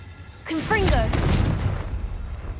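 A blasting-spell explosion in a Hogwarts video game: a voice casts the spell, then a loud booming blast swells and rumbles for about a second before tailing off into a lingering low decay.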